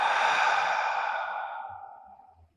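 A long, deep exhale through the mouth, breathy and close, gradually fading over about two seconds during a calming bedtime yin yoga session.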